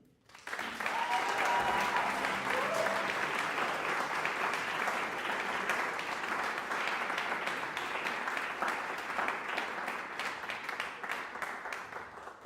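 Convocation audience breaking into sustained applause, a dense wash of many hands clapping that swells quickly and holds steady, fading only slightly toward the end.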